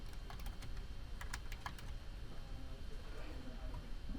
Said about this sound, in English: You start typing the name.